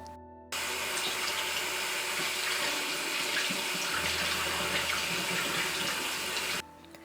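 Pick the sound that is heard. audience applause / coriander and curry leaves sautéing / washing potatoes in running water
washing potatoes in running water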